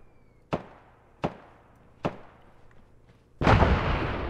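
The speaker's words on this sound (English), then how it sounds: "Woo! Artillery." Artillery fire in the Arma video game: three sharp, evenly spaced distant cracks, each with a short echoing tail, then a heavier sustained rumbling roar.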